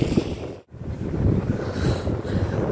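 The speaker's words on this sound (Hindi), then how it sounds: "बहुत ज़्यादा हवा चल रही है, ठंडी ठंडी।" Strong, cold wind blowing outdoors in a city centre at night buffets the microphone in loud, rumbling gusts, with one brief lull before the roar returns and carries on steadily.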